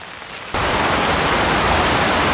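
Heavy hurricane rain in a Lost TV episode bursts in suddenly after a quieter moment, becoming a loud, dense, continuous roaring wash of downpour with no voices.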